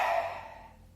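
A single soft inhalation during yoga breathing, close and breathy, fading out over about a second.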